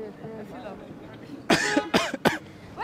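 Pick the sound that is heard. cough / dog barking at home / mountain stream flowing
cough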